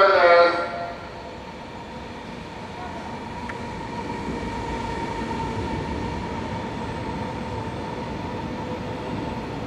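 A Shinkansen 500 series train rumbles steadily through Fukuyama station, a continuous loud roar with a sustained tonal whine, opening with a brief louder burst.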